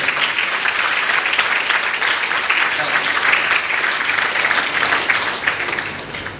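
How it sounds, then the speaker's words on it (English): An audience at a maritime industry talk claps loudly in a sustained, dense round of applause that holds steady for several seconds before easing slightly. "please give all these ladies a very loud round of applause"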